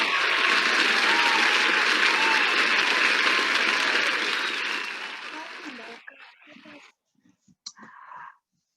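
An audience applauds award recipients at a student leadership celebration, sustained loud clapping that fades out after about six seconds, followed by scattered faint sounds.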